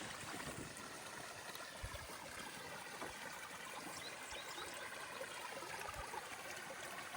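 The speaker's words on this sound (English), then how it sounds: "all this water that you can hear is coming, all that's coming out of the pond, out of my biggest pond in the pasture" Water runs steadily out of the largest pond in a pasture on a rainy summer day. A continuous trickle and gurgle flows through a metal pipe at a water gap. It sounds soft and close, with no voices.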